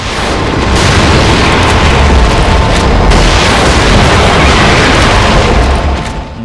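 Rockets explode in the horror game The Evil Within, a continuous loud roaring blast of rumbling booms and debris crackle that fills the whole stretch with no let-up.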